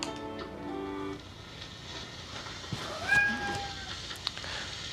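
A cat meows clearly up close, one drawn-out call near the middle, set against quiet room tone and a faint tonal jingle at the start.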